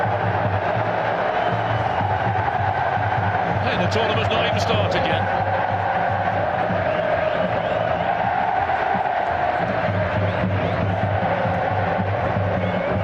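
Stadium crowd noise from a FIFA football video game, a steady roar of cheering and babble throughout, with commentary-style talk over it.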